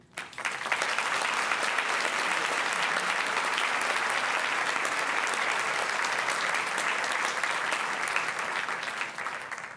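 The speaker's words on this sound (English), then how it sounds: "let's give them a big round of applause" A large crowd applauds at a school class night award ceremony, steady and loud clapping that holds evenly for several seconds without a break.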